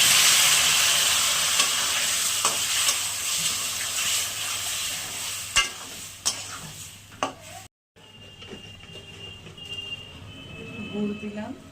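Masala spices sautéed in a pan for a light tengra fish curry with teasel gourd, giving a steady close hiss and sizzle with occasional clatters of the utensil, a brief cut near the end, then a quieter sizzle.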